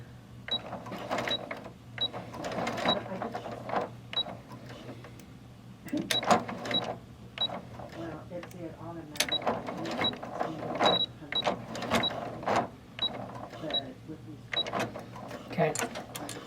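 Sewing machine stitching slowly, one stitch at a time, to secure a seam on a bag, giving short intermittent mechanical clicks and whirs while a person talks over it.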